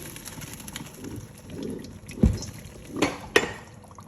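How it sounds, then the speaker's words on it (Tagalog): Water draining off half-cooked rice in a pot, a steady liquid pour and trickle with a few louder splashes and metallic knocks near the end, close by. "after half cook na siya, i-drain ko siya"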